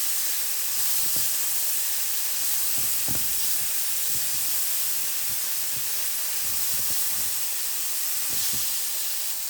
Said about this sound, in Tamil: பட்டரில் கடுகு பெருஞ்சீரகம் பொரிய விட்டுருக்குறேன்